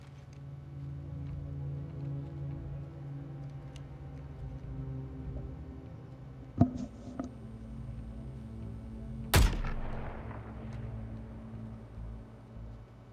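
Gunfire in the video game Suicide Squad: Kill the Justice League: a couple of faint mechanical clicks, then one loud, sharp shot with a ringing tail that fades over a low, steady game ambience.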